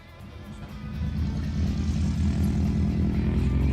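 A propeller plane at a STOL competition fly-in in Trevelin drones steadily and grows louder over a few seconds, its engine and propeller hum building into a strong, near, continuous roar.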